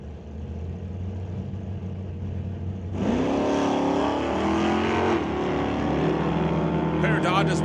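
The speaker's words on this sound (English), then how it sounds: "Pair of Dodges running down track, one new, one old." Two Dodges, a new Scat Pack Challenger and a 1969 Dodge Dart, launch side by side at a drag strip, a steady engine drone jumping to loud, roaring acceleration partway through, with an announcer talking over it.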